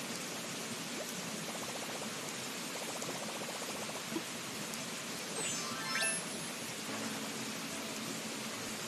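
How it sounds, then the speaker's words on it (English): A waterfall in Animal Crossing: New Horizons rushes as a constant, even broadband hiss like steady rain, with a few faint chimes and game tones layered over it. "Oh, the waterfall's quite loud."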